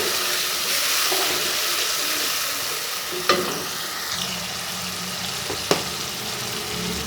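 Coarsely crushed dry coriander being stirred into potato slices frying in a pan, a steady sizzle with a few sharp utensil clinks and scrapes, close and alone.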